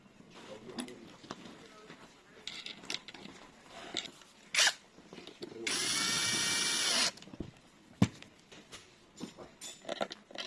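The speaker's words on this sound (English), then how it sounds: "this spindle is too long. We need to cut it shorter." A cutter trims an over-long spindle for a smart lever door handle during installation, giving one loud, sustained grinding burst of about a second and a half between scattered clicks and handling noises up close.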